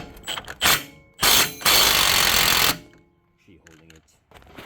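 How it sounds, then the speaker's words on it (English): Wrench working on a 17 mm bolt while installing coilovers on an Infiniti G37 or G35 RWD sedan, close ratcheting bursts and one longer rapid ratchet run, followed by lighter clicks, with a person talking between them. "Okay, got the wrench over here."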